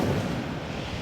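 A fire spell cast in Hogwarts Legacy on Xbox Series X, a loud roaring, rumbling whoosh of flame that fills the whole second with dense low-heavy noise and no talking.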